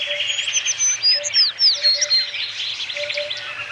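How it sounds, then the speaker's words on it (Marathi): Sparrows and parrots chirp at a feeding spot in a Mumbai home, a busy overlapping chorus of high tweets and sharp calls, close and lively, with a faint low hum underneath. "चिमण्या येतात, दाणे टिपून जातात. पोपट येतात, दाणे टिपून जातात."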